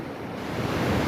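Wide Panjnad river at Alipur with water rushing and wind buffeting the microphone, a steady broad roar with no voices.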